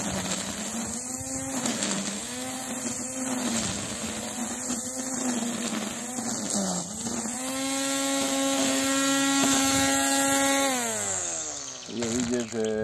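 Parkside 20V cordless string trimmer, model PRTA 20-Li C3, cutting tall weeds behind a house: a continuous whining motor hum that dips and rises in pitch as the line bites into growth, close and steady.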